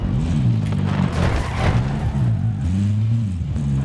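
A car engine in Call of Duty Warzone drones with a steady low hum whose pitch dips and rises as the vehicle is driven, loud and close throughout the few seconds, with no talk over it.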